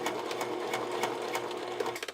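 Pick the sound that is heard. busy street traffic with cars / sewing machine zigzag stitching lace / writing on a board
sewing machine zigzag stitching lace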